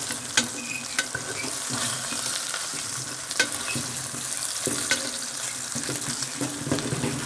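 Ox cheeks searing in a Dutch oven, a steady close sizzle with occasional stirring knocks and scrapes throughout, no talk.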